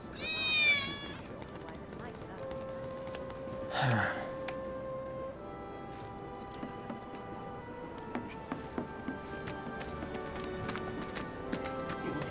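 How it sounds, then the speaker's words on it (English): A cat meows in the video game Final Fantasy VII Remake, a brief high mewing call at the start over steady game ambience, with a few faint chimes and clicks following. "Gotta be kitty cat."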